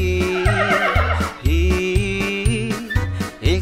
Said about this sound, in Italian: Il cavallo vuol saltare già.